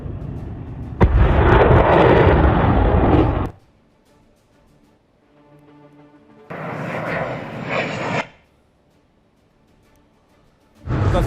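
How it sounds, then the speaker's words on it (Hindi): Missile attack explosions in war footage: a long, loud, rumbling blast, a quiet gap, then another heavy roar and the start of a third, all booming and sustained with no voices. "ये जो अटैक हुआ है उसकी तस्वीर इस वक्त आप देख रहे हैं, किस तरह से मिसाइल से अटैक किया गया है"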